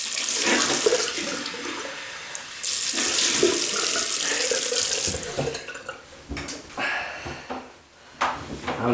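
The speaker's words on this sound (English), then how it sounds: "Right, I'll do what he did now and rinse off with water." A bathroom tap running steadily as a man rinses his face after a shave, with a loud continuous water rush that breaks into splashes and pauses toward the end.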